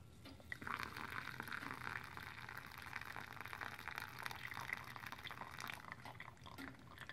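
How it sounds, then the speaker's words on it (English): Water trickles and drips through a makeshift coffee dripper into a pot, a faint steady pour with small splashes and drips close by, no talk. "Add some more water."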